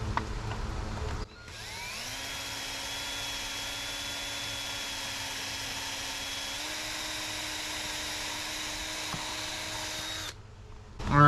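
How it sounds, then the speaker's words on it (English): A power drill bores through an aluminum garage door sill in one continuous whine lasting about nine seconds, with a slight rise in pitch partway through, then it stops abruptly. "I just drilled through the aluminum"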